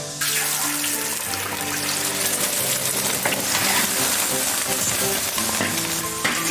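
Clean water is poured into a hot pot of egg fried in lard for an egg and mushroom soup, setting off a loud, steady hiss and sizzle that continues up close for several seconds.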